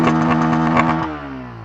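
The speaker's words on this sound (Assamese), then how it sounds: "সো গাইজ চাব পাৰা এক্সজষ্ট নোটখন মই RPM এটা দি চাম" A Bajaj Pulsar N160 motorcycle exhaust revs loudly and close with a rough, pulsing note, then drops back as the engine settles toward idle.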